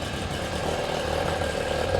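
A Ducati Supersport replica motorcycle with an EFI engine idles steadily just after starting, giving a continuous close-up rumble while its revs settle.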